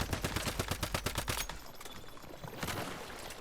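Shotgun turrets in the video game Once Human fire a rapid, regular string of loud blasts, then stop, with a few more shots and a scrape of debris afterward.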